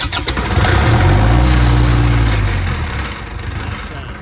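A 2016 PDG three-phase AC synchronous diesel generator engine cranks over loudly for about two seconds with a deep, droning rumble, then fades to a lower mechanical hum without catching.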